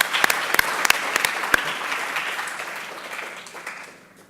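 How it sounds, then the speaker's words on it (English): An audience applauds for a bookshop team at a literary festival crime-writing session, with dense, steady clapping that starts full and gradually thins and fades toward the end. "can we have a round of applause for Cecil and his team at Adam's Books"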